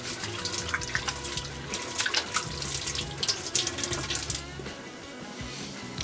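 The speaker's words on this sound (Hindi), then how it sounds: "हाथ धो लेते हैं।" Hands being washed under a running kitchen tap while cooking, a steady close stream of water splashing into a sink with irregular spatters as the hands move through it.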